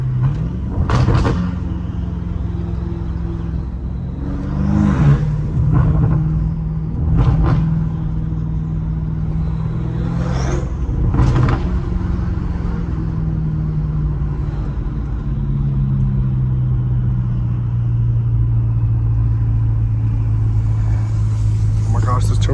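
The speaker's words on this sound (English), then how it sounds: "my car literally sounds like a diesel freaking truck" A BMW M5 Competition engine rumbles deep and steady, swelling with several revs and sharp bursts, with people talking over it.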